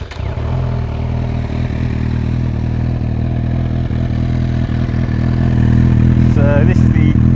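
Honda CB1000R motorcycle engine cranking and starting, then settling into a loud, steady close-up idle with a deep throbbing rumble, someone speaking briefly over it.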